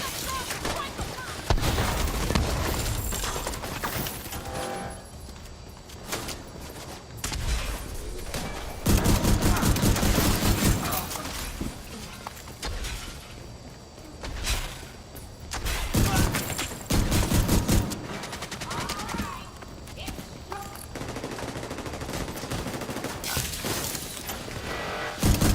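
A rogue assault turret fires in The Division 2, with dense rattling bursts of automatic gunfire and impacts in loud waves, punctuated by pauses and heavier booms, while voices speak intermittently underneath.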